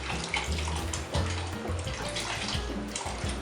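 Liquid pours steadily into a pot of homemade vegetable soup, a continuous close splashing and gurgling that runs without a break for a few seconds with no voices.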